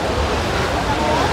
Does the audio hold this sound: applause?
no